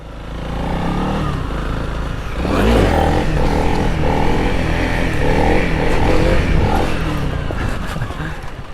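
A dual-sport motorcycle is ridden nearby, its engine a steady loud drone that swells into a stronger pull and holds at a rough, rising tone with some rattling clatter.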